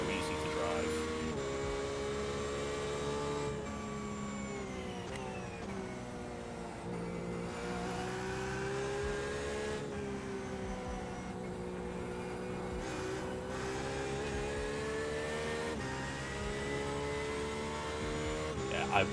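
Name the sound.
racing car engine driving on track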